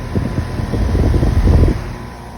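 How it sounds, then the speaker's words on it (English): A 2019 3-ton Goodman heat pump outdoor unit running in heat mode with some ice on it gives a close, steady fan whoosh with low rumbling pulses, rising briefly and then easing. "This Goodman's running in heat mode."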